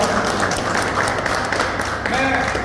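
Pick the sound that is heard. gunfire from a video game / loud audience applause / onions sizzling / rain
loud audience applause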